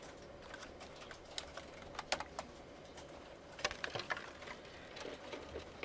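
Scattered keystrokes from students typing on computer keyboards in a lecture room, sparse irregular taps near and far over a steady quiet room hum, with no talk.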